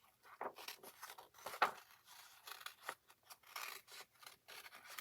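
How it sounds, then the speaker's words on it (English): Scissors fussy cutting paper bow shapes for handmade cards, a series of close, quiet snips and rustling paper in an irregular rhythm with no talk. "So I'm going to be doing a lot of, excuse me, fussy cutting for those double ones."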